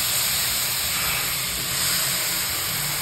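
Soaked kurdai tipped into a hot pan, giving a steady, even hiss like steam or spray that holds loud for a few seconds with no talk over it.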